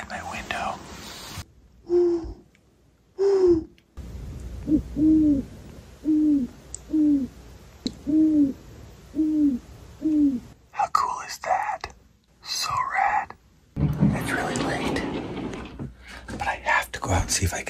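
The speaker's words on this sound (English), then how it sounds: "See this owl." Owl hooting from a fence post outdoors, a steady run of about eight clear, evenly spaced hoots at moderate distance, with whispering and quiet talk before and rustling noise after.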